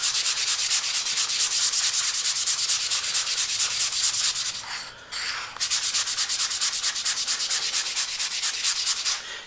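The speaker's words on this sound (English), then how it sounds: "I am going with the grain with proper sanding technique" Steady rhythmic rasping of sandpaper on wood in fast back-and-forth strokes, close and loud, with a brief pause midway before it resumes.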